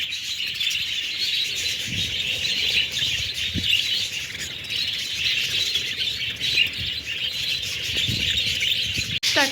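Parrots let out onto the snow chirp and twitter continuously in a busy, bright chorus, several birds close by with occasional sharper calls and no talk.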